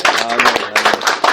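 A congregation clapping for Jesus at a French-language sermon, short loud bursts of hand claps in uneven clusters, close and lively, with voices mixed in.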